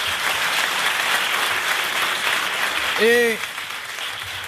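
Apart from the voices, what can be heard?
TV studio audience applause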